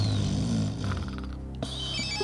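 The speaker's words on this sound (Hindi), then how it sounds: "तेरा फोन बज रहा है" A mobile phone rings inside an office, its tonal ringtone playing loud and alone in a steady pattern with no one speaking.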